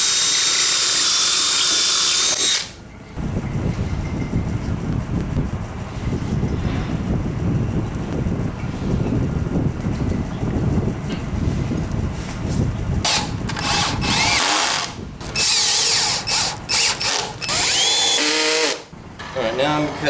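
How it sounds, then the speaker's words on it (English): A power drill works into cedar boards for nightstands, whirring in bursts and stopping briefly between holes, loud and close with wind-like noise on the microphone. "And we're gonna drill the things there."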